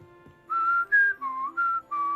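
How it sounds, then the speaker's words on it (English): A person whistles a short tune of five sustained notes, close and clear, with a steady low hum in the background. The whistling accompanies Hogwarts Legacy gameplay. "I just started whistling to the beat"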